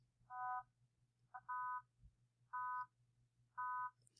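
A synthetic harmonic complex tone with a 250 Hz fundamental and some lower harmonics removed plays as four steady, evenly spaced beeps, each about a third of a second long. It is clean and moderately loud over a faint low hum.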